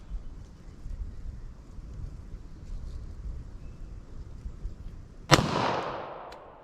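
A single sharp .40 S&W pistol shot firing a heavy 200 gr Underwood Nosler JHP load, a sudden loud crack with a trailing outdoor echo after several seconds of windy background.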